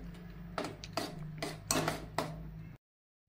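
A spoon stirs milk powder into thick, reduced milk in a metal pan for shahi tukda, giving a handful of soft scraping clinks in an even rhythm before a sudden cut to silence.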